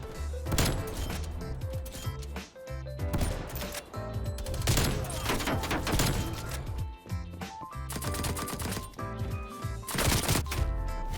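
Rapid bursts of gunfire in Call of Duty Cold War include a nail gun, with dense, loud volleys and impacts layered over game effects and a low rumble, and no talk.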